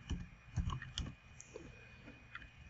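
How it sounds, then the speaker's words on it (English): Keys clatter on a computer keyboard at a close, soft level, a few quick bursts of clicking taps followed by lighter scattered keystrokes against a faint steady hum. "just press Windows S and then type keyboard in here"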